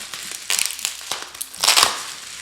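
Crinkly plastic packaging around artificial flowers being unwrapped by hand, a run of sharp crackling crunches with a louder, denser burst of crinkling near the end, close and alone.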